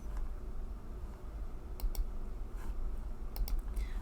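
Computer keyboard taps and mouse clicks while browsing a lesson plan database, a few crisp close clicks in a loose, irregular pattern over a steady low room hum.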